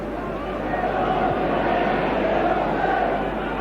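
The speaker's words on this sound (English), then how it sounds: "It is a joy to be inside Dens Park with this capacity crowd" A capacity football crowd at Dens Park, Dundee, for a 1983 Scottish Premier Division match between Dundee and Dundee United, a continuous distant roar of massed voices under a commentator's talk.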